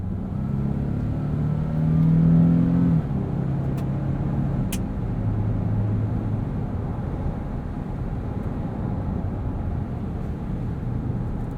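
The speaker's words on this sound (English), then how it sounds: "Besides a little bit of wind noise, the cabin in this is pretty quiet." Steady road and wind rumble fills the cabin of a 2022 Nissan Frontier SV 4WD crew cab cruising on highway tires, a constant low drone with a brief swell, no talk.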